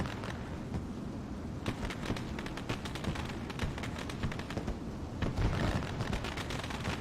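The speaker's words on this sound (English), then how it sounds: "The fireworks go off here at Knoxville." Fireworks bursting at the Knoxville race track during a sprint car race intermission, a dense continuous crackle of rapid pops and booms rolling on for several seconds, loud and unbroken with no talk over it.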